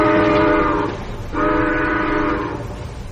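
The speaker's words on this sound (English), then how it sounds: "I could hear its bell ringing and the cry of its whistle." An approaching train sounds its whistle in two long, loud, close blasts separated by a short gap, over a low rumbling background; no bell stands out and no one speaks.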